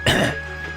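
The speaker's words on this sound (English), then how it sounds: "Let me clear my throat" A single short, close throat clearing, a rough guttural rasp that fades quickly.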